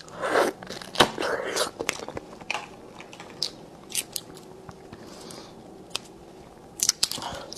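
Crunchy corn-flavoured puffed snack bitten and chewed close to the mic, with several sharp crunches among softer chewing, then quieter stretches broken by occasional crisp bites.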